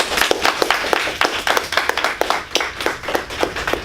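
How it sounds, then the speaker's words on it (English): Audience applause at an opening address, close and loud clapping with distinct sharp hand claps in a quick, uneven rhythm, continuing steadily throughout. "can I give all of you a round of applause"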